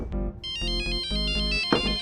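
A phone ringtone plays in a comedy-drama household scene, a loud melodic electronic tune of repeating tones sounding continuously for two seconds with no talk over it.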